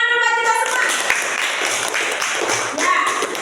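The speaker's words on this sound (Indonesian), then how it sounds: "Tepuk tangan dulu buat kita semua" A group applauds at a 2025 performance assessment, a short burst of mixed hand claps and taps that fills the whole moment at close range, with a voice briefly heard at the start.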